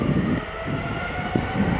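A KLM Boeing 777-300 on its takeoff run at Amsterdam Schiphol, bound for Sao Paulo, gives a steady, broad engine roar with a low rumble, holding level and fairly loud throughout.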